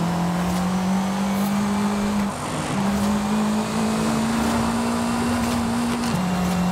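A car engine in the racing game Forza Horizon 5 holds a loud, sustained growl that climbs slowly in pitch, with a brief dip partway through like a gear change, and no voices.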